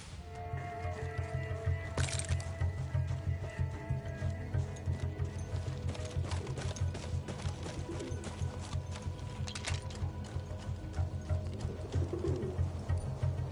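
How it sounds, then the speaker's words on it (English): A pigeon coos repeatedly in the World War I shooter Battlefield 1, soft low calls over a continuous rumbling background with occasional sharp clicks and knocks. "Hello, pigeon."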